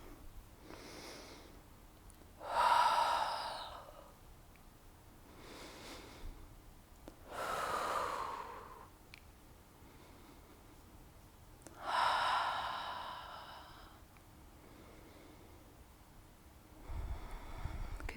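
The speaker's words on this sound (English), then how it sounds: "Continue breathing fully, deeply." Deep breathing during yoga: slow, audible inhales and exhales, about four long breaths spaced several seconds apart, close and fairly quiet, with no speech.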